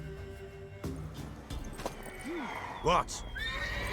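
A mare whinnies in a couple of rising and falling calls while hooves clop nearby, with voices speaking over the scene and a short spoken question.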